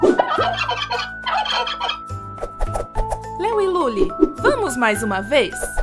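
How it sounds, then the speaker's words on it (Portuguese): Turkey gobbling is set against a children's song with a sung voice over a melody. The bubbling, warbling gobbles come loudly in the second half. "Este é o som do peru, que vai grugulejar de novo."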